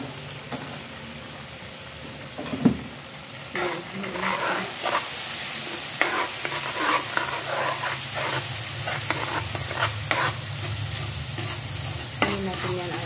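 Cooking oil sizzles and hisses steadily in a pan while a utensil stirs and scrapes with occasional louder clinks against the metal.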